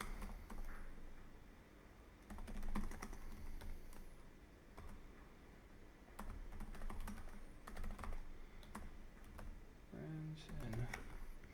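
Someone types code on a computer keyboard in a steady, quiet patter of close, soft key clicks with small pauses, which runs for the whole stretch.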